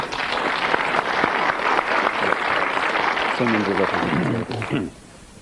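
Studio audience applause on a 1997 episode of the Countdown game show, a dense steady patter of many hands for several seconds, with a voice briefly speaking over the end before it fades away.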